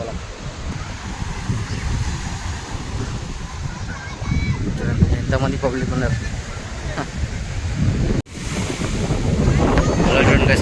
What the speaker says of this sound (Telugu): ఎంత పెద్ద పెద్ద అలాగలు వస్తున్నాయి